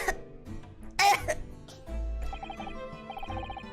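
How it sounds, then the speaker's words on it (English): A single sharp, loud cough bursts out near the start, followed by quieter throat sounds over a low, steady background tone in a game scene. "You seem to be coughing up some"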